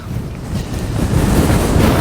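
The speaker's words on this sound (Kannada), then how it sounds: "ತುಂಬ ಗಾಳಿ ಬಿಸ್ತಾ ಇದೆ ನನ್ನ ವಾಯ್ಸ್ ಎಷ್ಟು ಕ್ಲಿಯರ್ ಇದೆಯೋ ಇಲ್ಲೋ ಗೊತ್ತಿಲ್ಲ" Strong wind buffets the microphone during a monsoon ride, a steady low rumbling roar that builds slightly over two seconds, with no voices.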